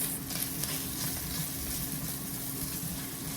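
Ground turkey, nearly cooked, sizzling over lower heat in a pan while it is broken into smaller pieces, a faint steady crackle with soft scraping, no voices.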